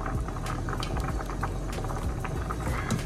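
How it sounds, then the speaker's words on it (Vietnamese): Glutinous rice boiling in a pot of water for a sweet white bean dessert, a close, continuous bubbling and popping at steady volume. "Giờ mình chờ cho cái nếp nó sôi lại"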